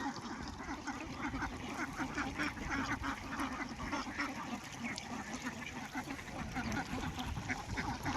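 A flock of ducks kept penned on a river in the Chalan Beel wetland quacks continuously in a dense, moderately distant chorus, with no talk.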